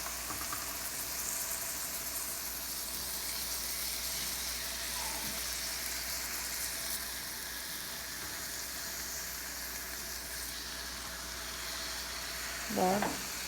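Chicken sizzles steadily in a hot pan, a continuous close frying hiss holding even throughout, with a brief louder crackle near the end.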